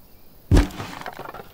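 Glass breaks with a sudden sharp crack and brief shattering burst, cut with a glass knife during a break-in in the Thief Simulator video game, followed by a short trail of small tinkling debris.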